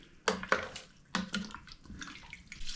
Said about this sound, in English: 2 more cups of water going in.